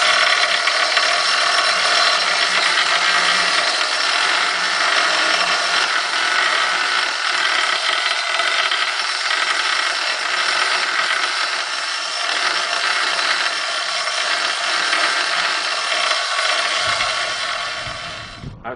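A power tool smooths the cut edge of a granite countertop for an undermount sink, giving a loud, close, unbroken grinding whine that holds steady for almost twenty seconds.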